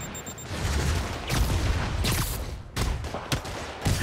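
Rockets and gunfire in the video game Marvel's Spider-Man form a dense, continuous barrage of blasts, rapid shots and booms, loud and layered with brief dips between volleys.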